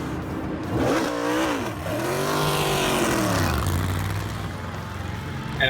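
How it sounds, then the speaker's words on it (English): The engine of a Chevrolet Corvette race car roars and revs at the 2016 Rolex 24, its pitch climbing and dropping through gear changes, loud and close throughout. "Here they are racing in the number 10 Konica Minolta Chevrolet Corvette at the 2016 Rolex 24."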